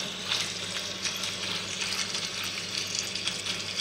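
Rabbit pieces frying in a curved pan make a steady, close, continuous sizzle and crackle with no talking.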